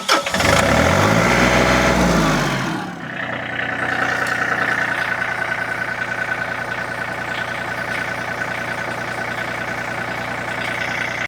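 A John Deere 3025E compact tractor engine cranks and fires, a loud mid-pitched start, then settles into a steady close diesel idle with an even rhythmic chug.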